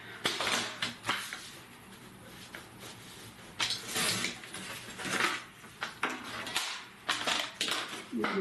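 Paper for a scrapbook album is cut with a series of crisp, scraping cutting strokes at close range, irregularly spaced and moderately quiet, with no talking.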